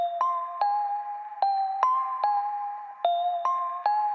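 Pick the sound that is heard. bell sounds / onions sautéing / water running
bell sounds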